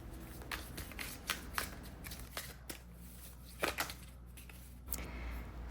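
An oracle card deck is shuffled by hand, giving a run of quick, close riffling bursts and soft card flicks, with short pauses between them.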